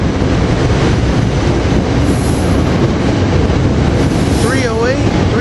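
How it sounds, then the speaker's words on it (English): SEPTA railcars on the Doylestown to Paoli train rumble loudly and continuously, with wheel squeals rising near the end and a voice faintly beneath the roar. "Here we got the train to Paoli from Doylestown."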